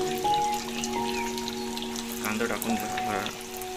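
Chopped onion fries in a pan for a simple prawn curry, a steady close sizzle and crackle with faint tonal sounds and a bit of voice in the background.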